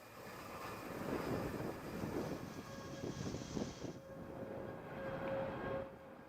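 ULA Vulcan VC4S rocket carrying USSF-106 climbing away from Cape Canaveral, Florida, a steady broad crackling engine roar heard from a distance, rumbling continuously throughout with a faint steady tone above it.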